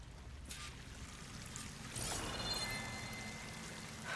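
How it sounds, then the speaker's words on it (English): Steady broadband rush of a waterfall in the Horizon Forbidden West video game, continuous and moderately faint, swelling slightly louder about halfway through with no talk over it. "That waterfall must be coming from somewhere."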